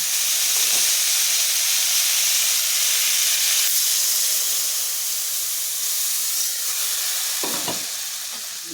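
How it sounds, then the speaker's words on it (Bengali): Hot prawn curry with raw banana hisses loudly in the pan as water is poured in, a steady broadband sizzle and steam hiss that slowly fades, with occasional stirring clinks. "এবার আমি এখানে দিয়ে দেবো মাছ মতো জল।"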